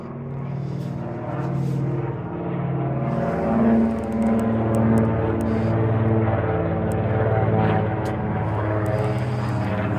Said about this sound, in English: That's one noisy aeroplane.